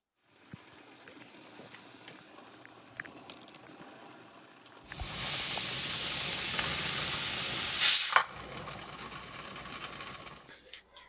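A steady, loud hiss of steam venting under pressure from a pressure canner while canning chicken, rising abruptly midway after a quieter stretch of low rumbling, then dropping off near the end.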